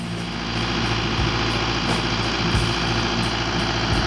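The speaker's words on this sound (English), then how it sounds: "The pump's putting air into the AquaDam, and so we're burping it." Pump engine pushing air through six-inch hoses into an AquaDam in Cordova, Alaska: a loud, steady engine drone with a throbbing rhythm and faint periodic pulses, close and continuous, no talk.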